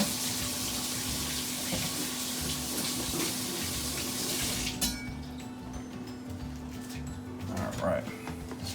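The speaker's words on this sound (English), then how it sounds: "Let's give our knife a rinse." Water from a tap runs steadily into a sink while a kitchen knife is rinsed, the flow loud and continuous before it drops away near the end, with someone speaking over it.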